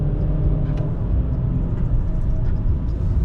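A Honda Fit with a CVT holds steady at high RPM on backroads in Cyprus, making a continuous, loud engine drone with no shifts, broad and unbroken throughout.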